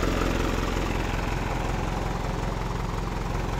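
The 4M50 diesel engine of a Fuso Canter truck, running again after a main relay replacement, idles with a steady, loud, close-up rattling drone and an even, unbroken rhythm, with no voices over it.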